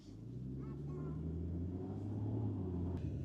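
A 48-volt mild hybrid BMW X3 M40i or Audi SQ5 SUV cruising in comfort mode, heard from inside as a steady low engine and road rumble with a faint tonal hum, continuous and even throughout.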